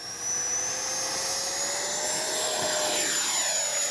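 A Freewing 90mm Zeus RC jet flies a pass with takeoff flaps down, its electric ducted-fan whine steady and fairly loud, rising slightly in pitch as it nears and passes.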